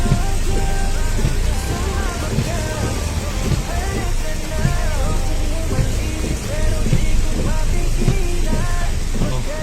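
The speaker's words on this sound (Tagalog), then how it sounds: "Lakas ng ulan sa labas." Steady heavy rain outdoors drums and patters continuously, with a low rumbling background and indistinct voices mixed in.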